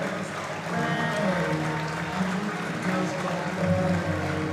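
Audience applause after a fencing bout between Stefan Voda and Bogdan Draskovic, a steady broadband clatter of clapping held throughout, with a commentator's voice running over it.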